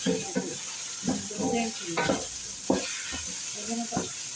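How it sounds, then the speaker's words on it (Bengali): Vegetables, including white carrots, fry in a pan with a continuous bright sizzle, while a utensil stirs and scrapes in irregular strokes close by; a voice is faintly audible underneath. "ভালো করে ভাজি করে"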